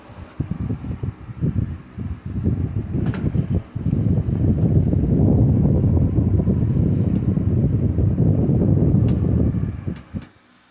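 A 1997-98 SMC 16 inch SF-16 stand fan runs and oscillates, a loud close whooshing airflow that starts in choppy gusts, then settles into a steady rush before cutting off near the end.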